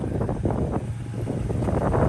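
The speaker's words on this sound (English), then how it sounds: "Sorry, it's pretty windy right now" Gusty wind buffets the microphone, producing a continuous low rumbling roar with uneven bursts throughout.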